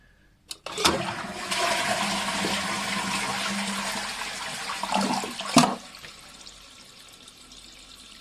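A toilet flushes with a rush of water, the cistern refills noisily for several seconds, then cuts off with a clunk, leaving a faint trickle, with lime scale in the toilet.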